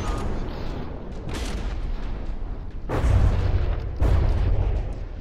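Shells strike a warship and explode in the From the Depths game, a rumbling run of dull booms and cracks with two heavy, close impacts landing near the end.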